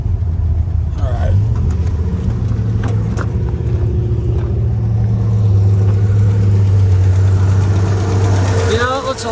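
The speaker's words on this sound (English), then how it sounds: "I don't know if you guys can hear that tick, but it normally does not have a tick." Barn find Chevy engine idling with a light tick, a loud, steady mid-pitched hum close by, with people talking over it throughout.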